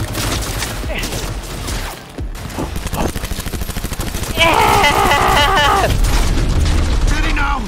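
Shootout gunfire in Cyberpunk, loud bursts of shots and mechanical clanks mixed with game effects and voices talking over the action.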